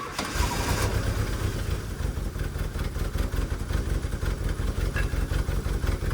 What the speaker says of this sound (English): Right, it starts, it kind of runs. It's definitely only on 3 cylinders.